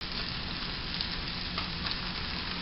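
Onions fry steadily in a pan, a dense continuous sizzle with faint crackles throughout and no voices.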